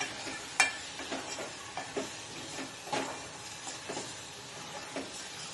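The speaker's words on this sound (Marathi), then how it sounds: "कोलंबी चांगली फ्राय केली की मग वाटलेला मसाला टाकायचा" Prawns frying in a pan for a fish curry, sizzling steadily while being stirred, with soft repeated scrapes and clinks of the spatula against the pan, close and fairly quiet, no talking.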